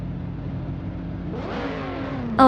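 Race cars in a racing game, including a 2008 Dodge Viper GT2, accelerate off the start at Rouen Les Isards, a steady engine drone rising into a louder climbing rev with a sharp whine at the end.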